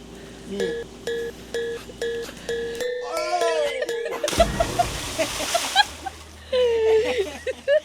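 Someone jumps into the warm Amazon river, landing with a sudden loud splash and churning water. Voices and a few tonal calls are heard before and after.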